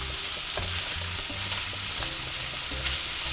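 Small pieces of chicken fry steadily in a hot pan over medium-high heat, giving a continuous close sizzle with light stirring clatter now and then and no voices.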